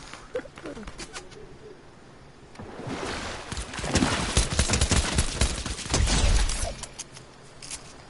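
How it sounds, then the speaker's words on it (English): Gunfire crackles in a video game as distant single shots give way to a heavier burst of rapid fusillade in the middle, fading back to scattered pops with faint ambient sounds around. "I can hear the shooting"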